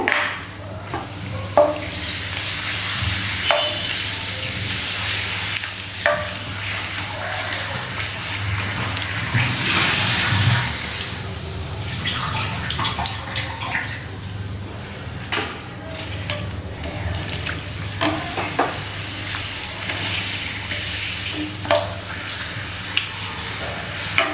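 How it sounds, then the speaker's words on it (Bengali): Papads deep fry in hot oil in a home kitchen, a dense, rain-like crackle that runs on evenly throughout with scattered sharper pops. "তো অয়েল গরম হয়ে গেছে, আর এবার আমি পাঁপড়গুলো ভেজে ভেজে তুলে নেব।"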